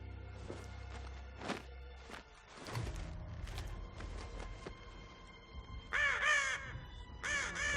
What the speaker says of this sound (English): That crow was awesome.